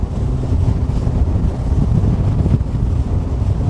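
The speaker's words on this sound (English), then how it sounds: "It's a little breezy out here" Steady wind buffets the microphone on a boat out on Lake Guntersville, a loud continuous low rumble with no talking.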